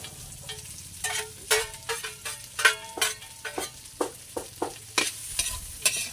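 Chicken meat is stirred while frying in a pan for adobong kangkong, with repeated close scraping strokes in an uneven rhythm over a soft, steady sizzle.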